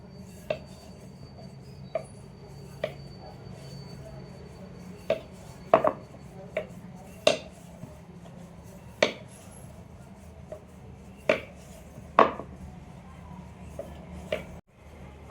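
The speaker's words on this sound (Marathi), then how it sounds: "आता आपण तिसरी पोळी लाटतोय." Chapati dough rolled out with a rolling pin, a quiet background rub punctuated by a dozen or so sharp knocks and clacks at irregular intervals, close and clear.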